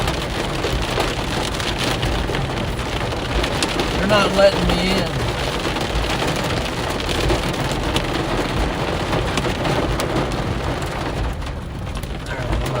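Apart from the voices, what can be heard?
hail and heavy rain falling during a thunderstorm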